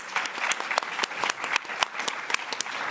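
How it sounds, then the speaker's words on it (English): A smaller audience at an FTC hearing applauds the panelists, with distinct individual claps forming an uneven, crisp patter close by. "Please join me in giving them a round of applause."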